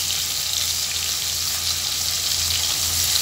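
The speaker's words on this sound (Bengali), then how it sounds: "পেঁয়াজের কুচিটাকে আমি একটা হাতার সাহায্যে একটু ভেজে নিচ্ছি।" Two medium chopped onions fry in oil, a loud, steady, close sizzle that runs without a break. Stirring with a ladle is barely distinct beneath it.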